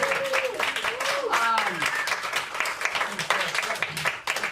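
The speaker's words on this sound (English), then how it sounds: "Let's give them all a final round of applause." A club meeting audience gives the candidates a final round of applause, brisk clapping from a small group running throughout, with voices talking and cheering over it.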